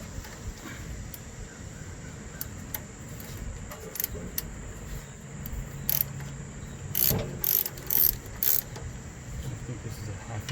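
A wrench loosening a bolt on the brake rod of a John Deere 180 mower, a series of close ratcheting clicks that bunch into quick bursts near the end, over low background hum.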